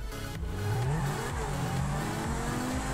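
A car engine in the GTA V video game revs hard and continuously, a loud droning whine that rises and falls in pitch as it accelerates.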